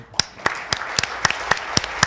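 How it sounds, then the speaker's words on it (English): Scattered hands clap for panelists at the close of a business breakfast discussion series, about eight distinct near claps spaced roughly a quarter second apart, thin and sparse rather than a full ovation. "And again, a round of applause for our panelists"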